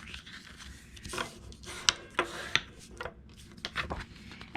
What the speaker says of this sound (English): we're going to fold these over